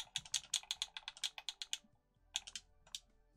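Fast, crisp clicking of keys on a computer keyboard, close and fairly quiet, in a quick burst of keystrokes, a short pause, then a few more scattered taps.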